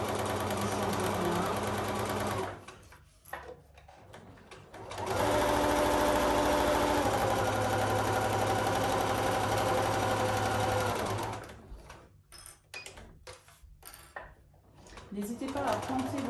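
A sewing machine stitches fabric for a Christmas stocking, running steadily in two long bursts with pauses between, close and loud, while a voice talks during the quieter gaps.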